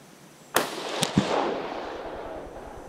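A .308 M1 Garand fires three rifle shots in quick succession outdoors, each a sharp, loud crack with a short rolling echo, the first shot the strongest.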